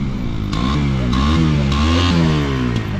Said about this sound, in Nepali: रोहितले बाइक पड्कायो